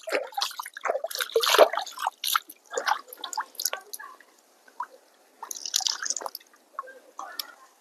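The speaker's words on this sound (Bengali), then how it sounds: "মায়ের দিঘিতে মাকে জল অর্পণ করবো" Water poured as an offering into a temple pond at Kasba Kali Bari makes close, intermittent drips and small splashes in irregular bursts, with short quiet pauses between them.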